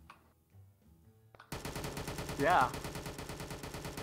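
Gunshots in a VRChat prison escape game, a loud burst of rapid gunfire that starts abruptly after a quiet stretch and keeps going, with a brief spoken word over it.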